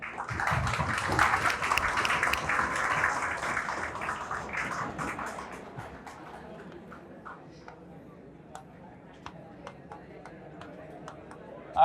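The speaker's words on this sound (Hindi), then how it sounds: "बाकी लोग ताली बजाओ जोर से एक बार।" Students in a classroom clap together, a loud dense burst of applause lasting a few seconds that thins into scattered single claps and taps, with some voices talking.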